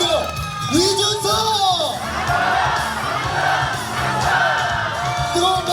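A crowd at an election campaign office opening chanting a word together in loud, energetic massed shouts that swell and repeat, with cheering voices filling the room.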